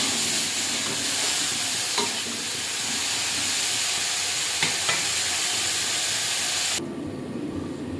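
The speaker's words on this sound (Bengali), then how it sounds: "দিয়ে দেবো পরিমাণ মতো লবণ, দিয়ে ভালো করে কষে ঢাকা দিয়ে দিই।" Red potato shukto with salt stir-fries in a pan with a loud, continuous sizzle and the scrape of stirring, then quietens abruptly near the end.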